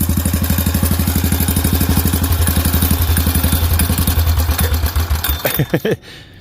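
A turbocharged Honda Trail 70 mini bike, the lil' T, runs with a steady rapid putter, loud and close, then revs briefly before cutting off and falling quiet near the end.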